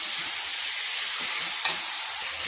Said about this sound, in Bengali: ভালো করে এখন কষাবো